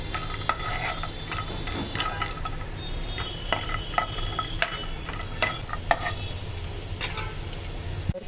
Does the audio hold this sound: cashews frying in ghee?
yes